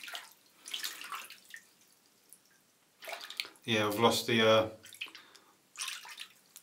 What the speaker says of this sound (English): Got some warm water in the sink.